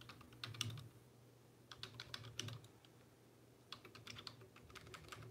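Quiet clicks of typing on a computer keyboard while writing a Facebook post, coming in short irregular bursts with brief pauses between, close by and faint, with no talking.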